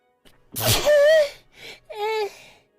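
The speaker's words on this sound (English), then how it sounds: "Oh, I'm gonna sneeze." A single close sneeze with a sharp inhale and burst, followed by a brief whimpering, voiced sound afterward.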